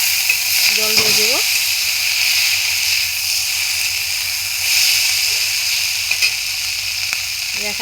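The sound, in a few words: water poured into hot spiced pan, sizzling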